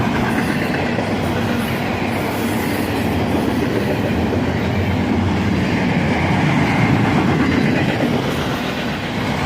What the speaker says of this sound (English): here comes a second distributed power locomotive. Another ET44AH.